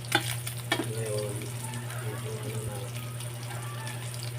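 Mango being sautéed in a frying pan for ginataang mangga, a steady sizzle with stirring scrapes and a few clinks near the start, close and continuous with no talk.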